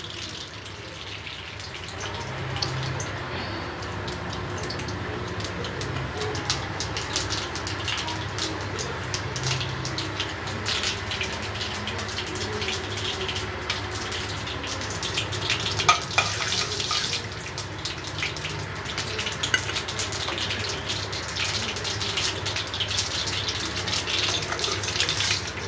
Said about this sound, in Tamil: இப்போ கடுகு உளுந்தம்பருப்பு போட போகிறேன்.